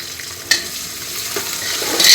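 A small tomato is stirred into a frying mixture for khichdi, giving a steady sizzle with a couple of soft spoon scrapes and clinks, close and alone with no talk.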